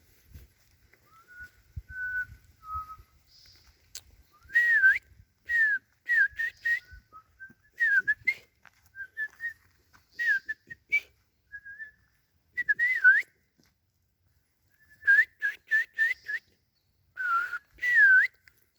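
Person whistling in imitation of birdsong, a series of short chirping trills and warbling bursts in irregular groups separated by quiet gaps, close and clear indoors.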